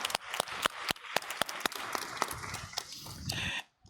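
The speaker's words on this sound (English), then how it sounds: "Thank you so much, and big applause for our discussion." Audience in a main hall clapping after a panel discussion, sparse individual claps at first building into denser applause, then ending abruptly.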